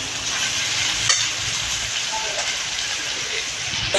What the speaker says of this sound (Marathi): भाजी आपल्याला परतून परतून करायची आहे